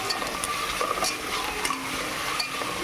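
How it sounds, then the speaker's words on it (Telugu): Cabbage with green chillies, coriander and curry leaves fries in a pan for a spicy pilaf, a continuous close sizzle with faint stirring scrapes throughout and no talk. "బాగా వేపుకుందాం."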